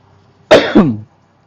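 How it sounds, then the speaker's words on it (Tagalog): A single short, harsh cough with a throaty catch, close and clear against a quiet background. "At tayo inuubo pa rin at sinisipon hanggang ngayon."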